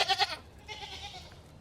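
Goats on a farm bleating, two quick close calls followed by a fainter drawn-out bleat, with no voices.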